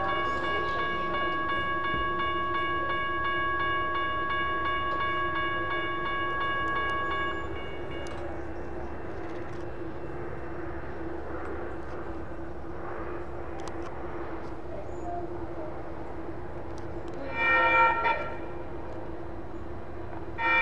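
A SACRT light rail train passes the 13th Street railroad crossing in Sacramento, California, with a steady rumble throughout. A sustained tonal warning sound lasts the first several seconds, and a brief louder burst comes near the end.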